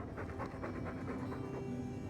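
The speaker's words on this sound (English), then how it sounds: "All that noisy dog breath" A dog in the Dragon Age II video game pants in quick, steady breaths, close and quiet, with no talking.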